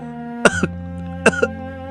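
Two short coughs, each a harsh double burst, separated by a pause, over a low sustained musical background.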